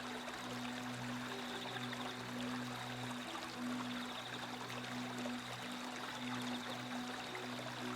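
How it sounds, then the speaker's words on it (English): Moving water flows through African grassland as a faint, steady stream, with continuous trickling and rushing running evenly throughout at a distance. "sound of moving water can carry through the surrounding grassland"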